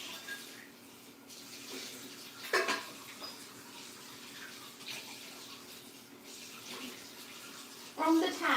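Cold water runs from a tap in a steady, soft rushing stream, with a few louder splashing bursts, heard fairly close in a quiet room.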